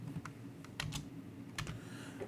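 Typing on a computer keyboard during a Linux lesson gives a few quick, irregular key clicks close by in a quiet room.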